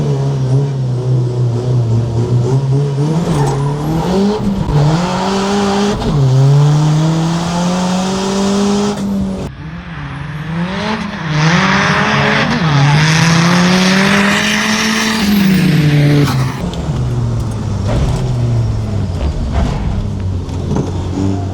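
An Audi 80 racing at a drag race event: a loud engine revving up through repeated gear changes, the pitch climbing and dropping as it shifts, close and dominant throughout.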